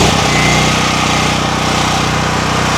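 A DuroMax XP13000EH generator cranks over with its starter and catches at once, then settles into a loud, close, steady engine drone with an even pulsing rhythm.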